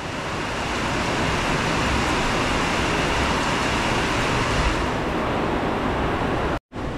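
Heavy rain pours steadily and loudly at a house, a dense unbroken roar that holds constant before a brief cutoff near the end.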